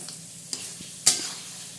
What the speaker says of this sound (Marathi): हे बघा परत असं परतून घ्यायचं.